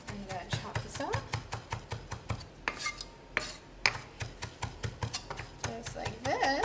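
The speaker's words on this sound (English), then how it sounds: "we're going to put a little bit of chopped fresh parsley in the top. And go ahead and chop this up." A kitchen knife chops fresh parsley on a cutting board, a quick run of sharp, evenly spaced taps close up, with short pauses and a few spoken words between cuts.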